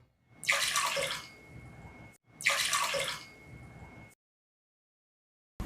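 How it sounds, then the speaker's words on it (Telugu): Water poured over washed toor dal in a pot, two steady splashing pours a couple of seconds each with a short pause between, then silence. "ఇప్పుడు 1 కప్పు కందిపప్పుకి 3 కప్పులు నీళ్లు పోసుకుందాం"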